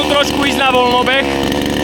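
A cheap internet-bought petrol chainsaw rated 5.8 HP idling loudly and close by, its engine buzzing steadily with slight wavering pitch throughout.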